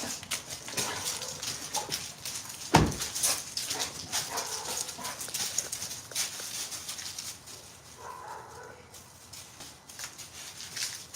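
Bella, a spoiled female puppy, moves around outdoors, with a steady patter and rustle of movement, a sharp knock near the middle, and quieter shuffling toward the end.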